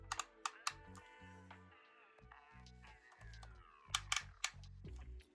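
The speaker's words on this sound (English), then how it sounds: "You got a very sturdy ratchet there so that you can pose the front wheels whichever way you'd like." Steering ratchet on a finished 1/24 scale Mach Baron model car clicking as the front wheels are turned, sharp close plastic clicks in small clusters at the start and near the end, with faint handling noise between.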